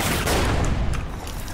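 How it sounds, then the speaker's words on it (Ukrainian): A grenade blast and bursts of gunfire from the shooter game Metro: Last Light merge into a dense, loud, continuous roar of combat that fills the whole short moment. "Граната пішла!"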